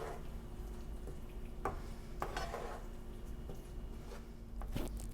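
Chopped cilantro is stirred into a cooked eggplant and tomato dish, giving soft wet squishing with a few sharp utensil taps against the pan, quiet and close.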